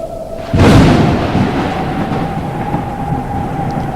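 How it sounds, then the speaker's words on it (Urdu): A sudden loud thunder crack in a storm breaks out and then rolls into a sustained low rumble over a steady hum, with no voices. "ایک عجیب و غریب طوفان آ گیا"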